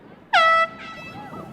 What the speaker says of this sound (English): Air horn sounds, and that ends the first half of play.